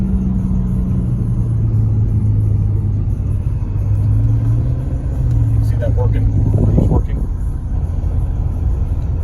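A 1990 Pontiac Grand Prix STE cruises in overdrive, its engine a steady low rumble with road noise from inside the cabin, while someone talks over it and a brief higher whine rises near the end.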